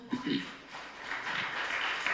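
A room full of people applauds a mentor at an International Women's Day event, a soft, steady patter of many hands that rises after a brief voice and continues faintly.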